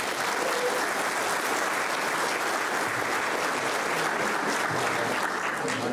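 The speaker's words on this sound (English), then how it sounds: "Give him a big round of applause" A conference audience at a BSides Perth security talk gives loud, sustained applause, a thick continuous roar of many hands clapping at an even level throughout.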